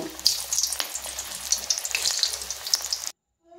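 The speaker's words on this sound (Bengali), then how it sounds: "এবার এখানে সবগুলো কোপ্তা আমি এক এক করে দিয়ে এগুলোকে সুন্দর করে লাল করে ভেজে নেব।" Raw banana koftas deep fry in hot white oil, giving a loud, close, crackling sizzle with bubbling pops that stops abruptly near the end.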